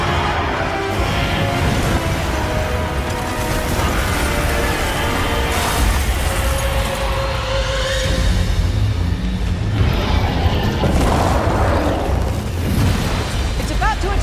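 Heavy booming blasts from a large cannon in Monster Hunter Wilds, repeated amid a dense, loud mix of game effects and excited voices.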